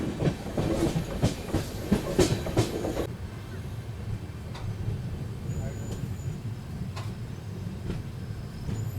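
A Kaifiyat Express sleeper train from Delhi to Azamgarh running at night, with a steady rumble of the rails and a rattling, clattering stretch early on that settles into a constant low drone with occasional faint clicks.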